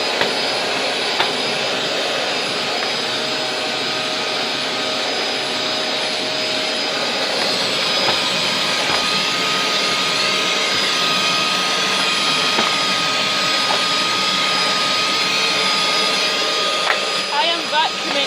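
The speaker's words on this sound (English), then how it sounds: "I am vacuuming far too quickly." A Hoover Turbo vacuum cleaner runs steadily for the whole stretch, a loud, continuous whining drone with slight shifts as it is pushed quickly back and forth, and small clicks and bumps now and then.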